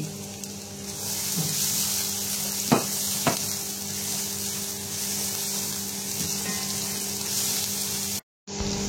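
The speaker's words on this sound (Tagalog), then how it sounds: "Ilalagay na natin yung ating onion." Onion sizzling steadily in a hot pan at the start of a shrimp and carrot stir fry, a continuous loud frying hiss with a couple of brief stirring clinks, then a short cut near the end.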